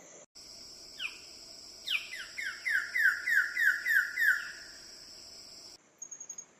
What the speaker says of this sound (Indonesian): Di antara gemerisik daun dan panggilan burung lain